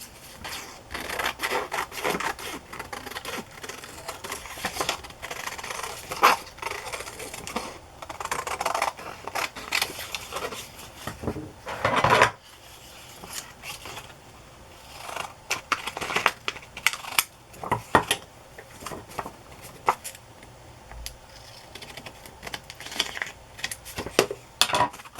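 Scissors snip through paper ephemera at close range, a steady run of crisp cuts and rustles with brief pauses, a quiet workspace without talk.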